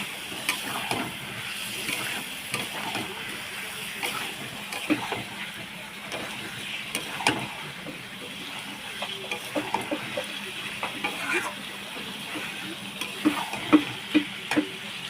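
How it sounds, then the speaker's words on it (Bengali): Potatoes cook in a spicy masala in a pan after a little water is added. A soft, continuous sizzle runs throughout, with intermittent scraping and clinks from stirring, moderately close. "আলুটা ঢেলে দিল মশলার মধ্যে, একটু পানি দিয়ে দিচ্ছি হালকা।"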